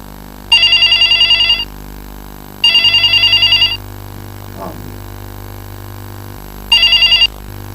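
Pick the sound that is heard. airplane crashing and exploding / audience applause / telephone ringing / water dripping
telephone ringing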